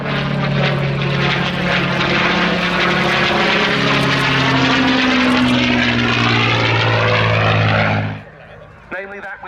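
A WWII propeller-driven bomber escort fighter flies past at an airshow, its piston engine droning loud and steady with the pitch sliding lower as it passes, then cutting away abruptly into quiet near the end.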